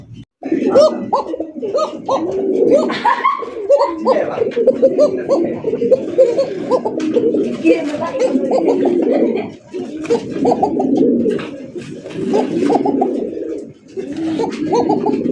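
Fancy and racing pigeons cooing close by, a dense run of repeated low throaty coos with short breaks, loud and continuous, with someone talking intermittently.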